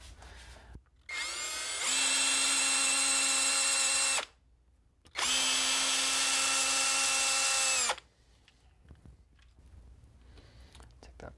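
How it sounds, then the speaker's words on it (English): A low-torque electric drill drives screws out of the plate on a 1961 Fender Musicmaster guitar, in two loud, steady whining bursts of about two and three seconds separated by a short pause, with quiet handling noise afterward. "this is the one place I'll use a low torque drill just to drive those out"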